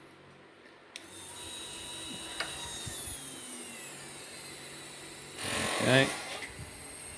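A linear actuator raises and lowers the arm of a fan-built Skutter robot with a steady motorised whine that rises and falls in pitch and swells louder near the end; a person briefly speaks.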